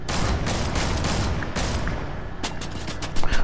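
Gunfire crackles in Fortnite: dense, rapid volleys of shots rattle almost nonstop, with a few heavier, louder bursts near the end.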